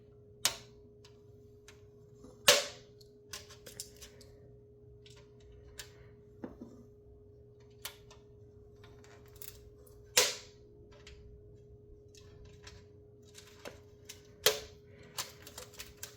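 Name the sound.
knife cutting tight plastic packaging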